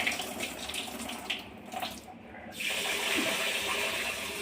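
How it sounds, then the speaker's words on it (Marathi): Rice that has soaked for three days is washed in water: running water pours and splashes steadily, with a brief dip in the flow before it surges back, louder and fuller, close by. "असं 2-4 पाण्याने धुवून घेणे"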